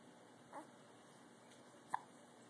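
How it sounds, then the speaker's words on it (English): A sleepy baby girl gives two small, faint hiccups about a second apart in a quiet room. "Always has the hiccups."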